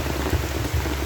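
Steady patter of rain falling on a surface during a fishing trip, a dense, even hiss with low rumbling underneath, no voices.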